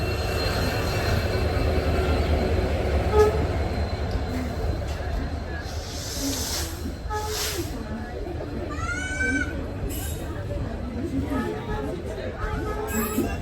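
A train hauled by a WDP 4D diesel locomotive rumbles past steadily on the Madurai–Rameswaram line while people chatter nearby, with a few squeals and a rising whine partway through.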